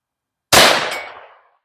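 A single sharp report from a Bear Creek BC-202 .22 WMR rifle cracks out of silence, loud and close, then rings and fades over roughly a second.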